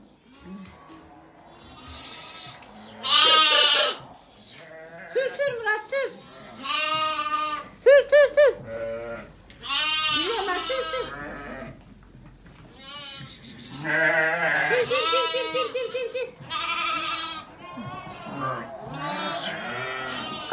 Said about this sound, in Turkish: Öteki kuzuları çıkaracağım işte Murat.